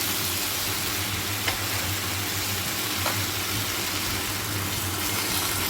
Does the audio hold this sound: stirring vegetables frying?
yes